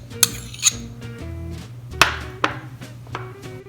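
Avocados dropped into a large bowl for a black bean salad, giving several sharp knocks and clatters spaced irregularly over a few seconds, close and fairly clear.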